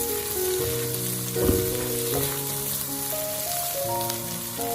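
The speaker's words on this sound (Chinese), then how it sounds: "再把蒜末加进来，继续炒香，炒出蒜香味" Shrimp and minced garlic stir-frying in a hot pan for braised prawns, a steady close sizzle and crackle throughout with a brief louder stir or scrape in the middle, no talking.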